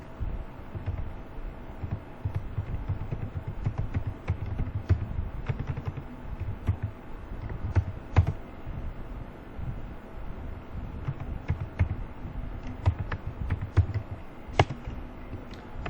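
Typing on a computer keyboard while filling in a payroll sheet and salary slip, with steady irregular clicks of keys up close over a low background rumble and no talking.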